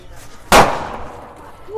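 A single loud crack from a paper cap firecracker, sudden and close, decays over a second into quiet outdoor background.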